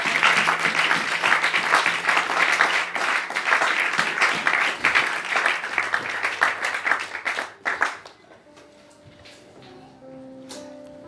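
A church crowd bursts into loud, dense applause and cheering acclaiming Jesus, sustained for several seconds before dropping away abruptly, leaving faint keyboard tones behind.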